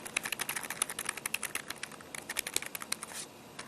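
Office computer keyboard on a default office PC being typed on rapidly, a dense run of crisp close clicks and key taps for several seconds, with no talk.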